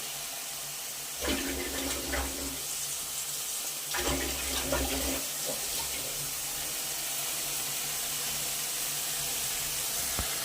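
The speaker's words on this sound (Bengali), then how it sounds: "সামান্য পরিমাণ একটু দিয়ে দেবো জল।" Water is poured into spice masala in a cooking pan for a cauliflower and paneer curry, with two short splashing pours around the second and fourth seconds followed by a steady background hiss.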